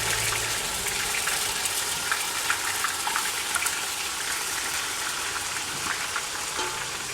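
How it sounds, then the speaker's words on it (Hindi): Onion paste hits a pan while cooking dhaba-style paneer matar, setting off a steady, close, hissing sizzle that runs unbroken throughout with no talking. "अब डाल देते हैं इसमें प्याज का पेस्ट।"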